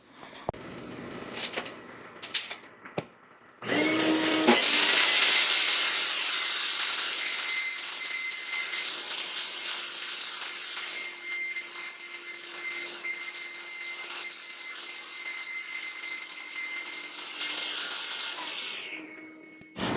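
Table saw spins up with a sharp start and runs with a steady high whine while cutting a sheet of Kaizen foam, holding evenly close and loud for about fifteen seconds before winding down, with brief handling clatter beforehand.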